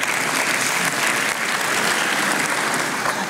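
An audience at the opening of an academic year breaks into continuous, even clapping, a close and full wash of applause from many hands with no pauses.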